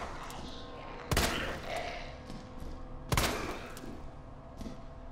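Two sharp, loud gunshot bursts ring out a couple of seconds apart over a low soundtrack in Resident Evil 2, with faint softer shots between them.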